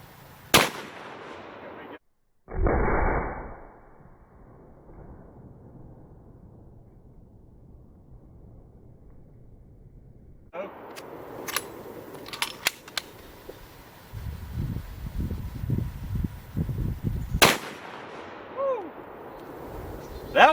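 A .458 Win Mag elephant rifle fires at a jack-o-lantern target outdoors, with a couple of sharp loud shot blasts standing out from quiet stretches, handling noises and bursts of rustling between them.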